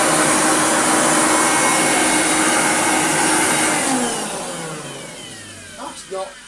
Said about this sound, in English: Plugged in, and it didn't immediately turn on, so the switch is off.